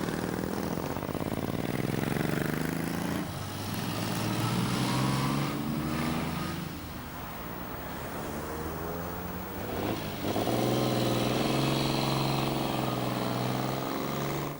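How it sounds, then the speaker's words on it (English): Vintage motorcycles ride one after another through a village main street, their engines rising and fading as each machine passes close by, with a steady loud roar and no talking. "the people out in the main street will be lined up to watch over these bikes as they go through"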